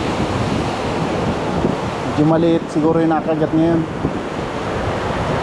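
Rough ocean surf at a fishing spot, a steady loud roar of strong waves with wind rushing across the microphone, while someone talks briefly over it.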